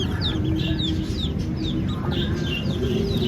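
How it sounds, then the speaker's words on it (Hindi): Desi chicken chicks at a bird shop in Latifabad, Hyderabad, Sindh, give repeated thin, high peeps in quick succession over a steady low hum of shop background noise. "ये देसी मुर्गी के चूजे हैं।"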